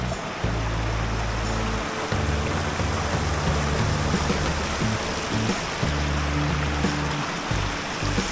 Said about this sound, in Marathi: हातपाय धुते मस्त पाण्यात